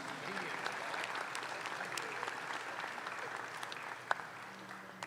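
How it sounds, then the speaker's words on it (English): Light, sparse clapping from spectators at a 4-H/FFA youth dairy cattle show at the Kentucky State Fair, honoring reserve junior champions, with faint crowd murmur and voices underneath. "Let's give them a nice big round of applause."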